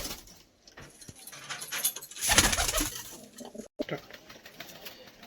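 Madras and Giribaz pigeons in Kolkata coo softly amid close rustling, wing flutters and faint clinks, with a louder burst of shuffling and flapping midway.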